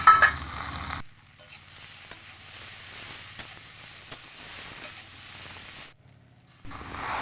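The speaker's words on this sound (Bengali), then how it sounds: "এখন দিয়ে দিচ্ছি ভেজে রাখা চিংড়ি মাছ।" Fried prawns dropped into a pan of sautéed figs in a Bengali shrimp curry, setting off a steady, fairly soft sizzle that runs for several seconds before stopping briefly and resuming.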